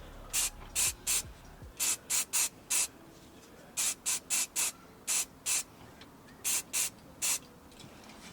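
Short hissing bursts of spray primer on a cavalry wargaming miniature, coming in quick pairs and triplets with brief gaps, close and fairly loud with no talking.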